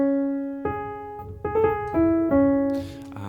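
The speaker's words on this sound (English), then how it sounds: "there's one more instance of the Hardanger fiddle in this episode" Hardanger fiddle plays a short, sparse enchantment motif from an orchestral television score, a few bowed notes with resonant sympathetic strings ringing and a faint shimmer at the end, heard alone.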